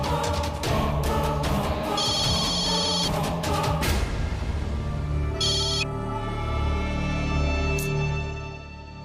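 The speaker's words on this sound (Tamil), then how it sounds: "அந்த நேரம் போன் அடிக்கிற சத்தம் கேட்டுச்சு." A telephone rings in a home in short repeated bursts of bright electronic trills, set against continuous background music.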